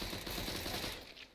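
Gunfire in Counter-Strike: Global Offensive, a brief, dense rattle of rapid shots that stays loud and steady before tailing off slightly at the end.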